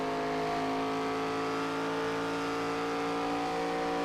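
A race car in a racing-league event at Texas, its engine holding a continuous steady whining drone at moderate distance, with no voices.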